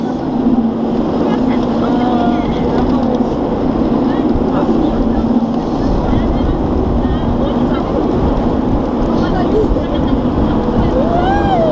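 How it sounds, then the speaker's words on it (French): Loud, continuous wind rumbling and buffeting against a microphone at Parc Astérix theme park in cold spring weather, steady throughout with a faint mechanical drone underneath. "Qu'est-ce que c'est que ce vent pourri?"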